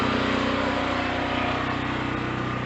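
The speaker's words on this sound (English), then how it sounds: "Let me walk away from that generator." A fuel-powered generator engine running loud and close, a steady droning rumble that holds unbroken throughout.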